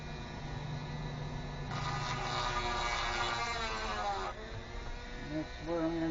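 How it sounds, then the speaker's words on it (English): A Dremel rotary tool grinds into an aquarium light fixture, its high whine rising for a few seconds amid a steady background hum, then dropping off as a voice speaks near the end. "Let's fire this Dremel up here."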